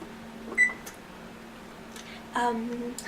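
An oven's control panel beeps as it is switched on: two short electronic beep bursts a couple of seconds apart over a low, steady hum, with no one talking.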